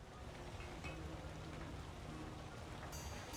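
Steady, dense rain pours down in the Lord of the Rings: War in the North fantasy game, a continuous hiss with no voices over it.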